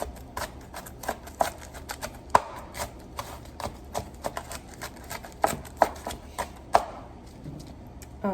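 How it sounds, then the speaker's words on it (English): A knife dices onions on a cutting board in a home kitchen, giving quick, uneven taps in short bursts, some sharper knocks standing out against a quiet room. "This is just gonna be a 20-minute video of me dicing onions."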